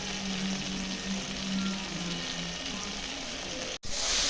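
Vegetables frying in a pan with turmeric and grated ginger, a steady close crackling sizzle throughout, with a brief cut near the end.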